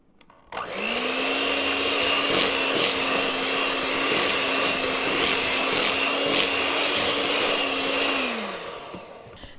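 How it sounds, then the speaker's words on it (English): An electric mixer beats a cup of oil for pumpkin bread, starting abruptly into a loud, steady whirring drone that holds evenly for several seconds before winding down and stopping. "we're going to beat that together with the electric mixer until it's creamed well"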